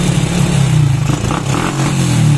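A Honda Wave 100 motorcycle engine runs without a battery, chugging loudly and close with an uneven, faltering beat that dips midway and then picks back up.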